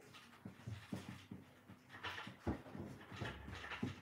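A dog pants rapidly and close by in a steady rhythm of quick breaths, with a few soft whimpers and yips mixed in and no talk over it.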